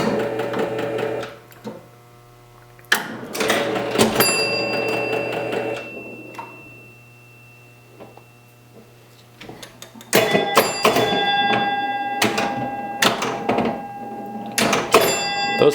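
A 1968 Williams Lady Luck pinball machine being played, with bursts of bells, chimes and solenoid clacks, a steady low hum underneath, and quieter gaps between flurries of scoring sounds.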